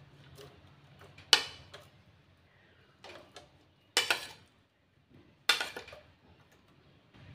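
Adai batter with carrot, cabbage, chilli and coriander being mixed in a bowl: a few sharp clinks and scrapes of a utensil against the bowl, spaced apart over a faint low hum, with no talk.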